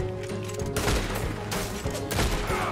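Repeated heavy gunfire booms out in Red Dead Redemption 2, several loud overlapping volleys of shots with a constant rumbling din beneath.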